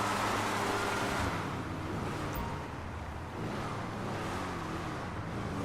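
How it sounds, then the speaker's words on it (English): Engine of a Declasse Tornado Rat Rod in GTA V, a steady, loud low rumble that holds throughout with a slight dip in the middle, no voices over it. "What an engine sound."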